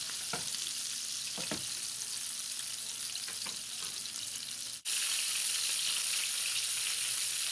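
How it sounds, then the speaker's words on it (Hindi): Gola kababs fry in oil on a low flame, giving a continuous close hiss and sizzle throughout, with a few faint clinks and stirring sounds, briefly dipping before the sizzle resumes slightly louder; no one speaks. "लो फ्लेम पे हम इनको फ्राई कर रहे हैं"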